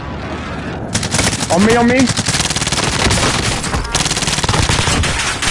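Dense, continuous automatic gunfire from a Warzone match, loud and close, rattling almost nonstop for several seconds while a player talks briefly over it.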